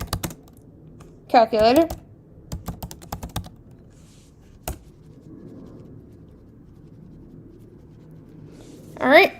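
Crisp clicks of a computer keyboard as a terminal command is typed to make a new folder, short bursts of keystrokes scattered between a person speaking.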